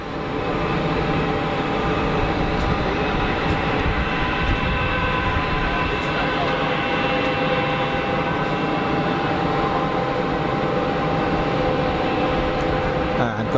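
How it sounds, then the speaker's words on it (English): An Airbus airliner on final approach at Geneva Airport makes a steady, loud engine roar that holds evenly for the whole stretch, with a broad rumble and faint tonal whine and no talk over it. "Looks like it's like an Airbus on final."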